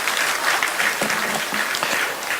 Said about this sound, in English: Please let us give a big thunderous applause to the Vice President.